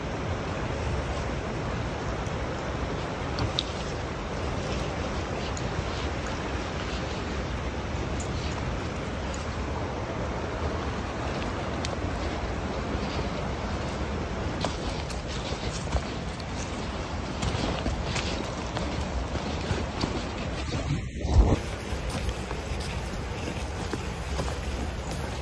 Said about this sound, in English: the wind's just picked up like crazy